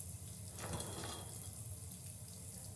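Hot water pours steadily from a tap or shower, a continuous broadband hiss of running water, fairly close and unbroken, with no talk over it.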